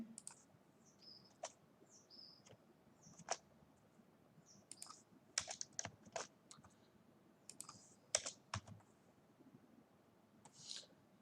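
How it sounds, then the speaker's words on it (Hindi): Quick typing on a computer keyboard, a run of sharp, irregular clicks and clacks at close range with short pauses between bursts, over a faint background hiss and no talking. "तो जल्दी से हम टाइप करते हैं"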